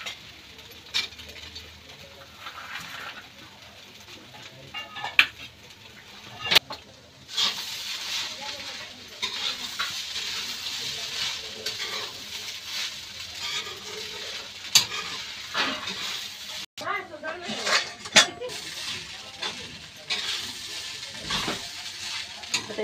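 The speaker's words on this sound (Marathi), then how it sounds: "असं छानपैकी आता भाजून घेऊया। ह्याला मिक्स करूया सगळं। शेंगदाणे पण टाकू आता थोडं।" Kanda poha with peanuts is roasted and stirred in a pan, with a soft continuous sizzle and scraping spatula strokes broken by occasional sharp clinks against the metal, while a person talks intermittently.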